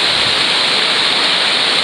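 A cascade on a stream rushes with a steady, loud, broadband roar, close by and continuous with no talk.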